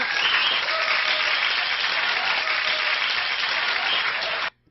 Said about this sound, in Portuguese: Muitos aplausos.